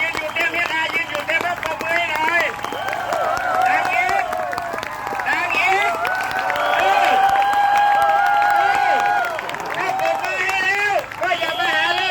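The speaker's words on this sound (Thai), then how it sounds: "ปรบมืออีกเลย" Loud applause from a crowd at a Toyota Gosei workers' gathering in Thailand, sustained for about twelve seconds with cheering voices and music-like tones mixed over the clapping.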